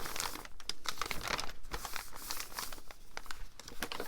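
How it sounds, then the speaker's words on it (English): Thin 100 GSM paper crinkling and rustling while handled during junk journal making, continuous close crackles and crisp rustles with no pauses. "this is quite thin paper that I've got. You can probably hear by it as well."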